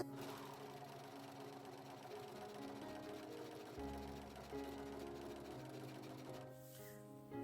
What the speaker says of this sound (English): I'm going to take it to the serger and I will serge all the way around